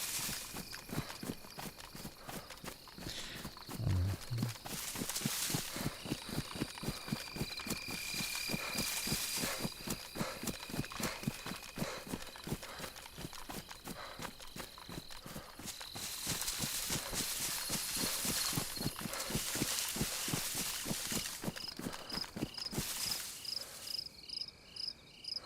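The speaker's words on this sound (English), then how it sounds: "What I keep hearing today, I keep hearing actually goat steps" Footsteps in DayZ on the Livonia map that sound like goat hooves, a long run of quick, regular clopping that goes on and on over a shrill insect-like chirring hum, with no talking.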